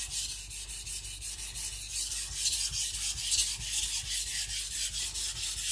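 A Shibata Kotetsu gyuto knife is drawn repeatedly across a coarse Shapton Pro 220 whetstone, making close, rhythmic gritty rasps in quick back-and-forth strokes with no talking.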